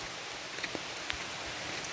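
Rain falls steadily outdoors at a park, a dense soft hiss with scattered sharper drop patters and light rustling close by.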